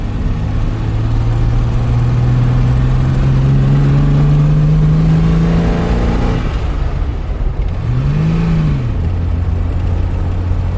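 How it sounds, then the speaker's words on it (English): A carburettor-fed classic Welsh car climbs a hill, its engine droning loud and close as it pulls, rising steadily in pitch, dipping briefly at a gear change, then climbing again, with no voices. "Go on then, up the hill, let's hear the engine work"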